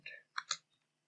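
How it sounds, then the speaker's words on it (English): A few quiet mouse clicks on a computer, a short cluster of three sharp ticks close together followed by near silence. "So I'm clicking on here"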